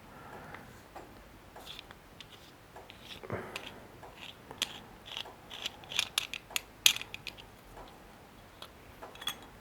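A shotgun shell reloading press crimps a cartridge with a series of faint mechanical clicks, ratcheting ticks and small metallic taps, quiet and irregular in a close, calm room.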